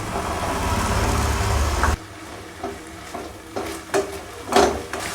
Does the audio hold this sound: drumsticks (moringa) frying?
yes